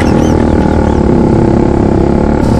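A motorcycle engine drones loud and steady while riding on a quick road trip ride in Lucban, Quezon, with rushing wind noise over the continuous hum and no break in the sound.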